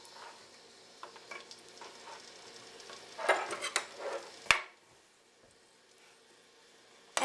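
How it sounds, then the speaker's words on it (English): Green chilies are stirred in a pan of hot oil, with soft sizzling and a cluster of louder crackles and scrapes before it quiets down. "And wait for it to sizzle a little bit."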